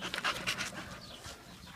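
A dog pants in quick, breathy bursts close by, soft and rhythmic, fading toward the end.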